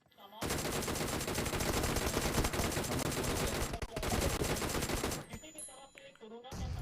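Dense gunfire in the mobile game Free Fire, sustained loud automatic bursts with a short break, ending in scattered shots and game effects.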